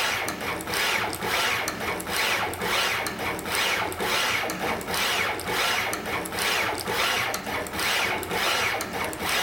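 A Neoden TM245P pick and place machine runs at half speed, making a rapid, regular mechanical shuttling whir with rhythmic pulses repeating about every second, loud and close.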